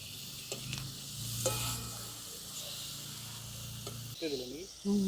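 Prawn parcels wrapped in bottle gourd leaves fry and are flipped in a pan, making a close, steady sizzle with a few scraping clicks, and a voice is heard briefly at the end.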